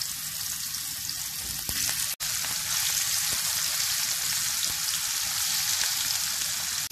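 Sardines shallow-fry in hot oil in a frying pan, giving a loud, steady sizzle and crackle that runs throughout, broken once by a brief sharp click.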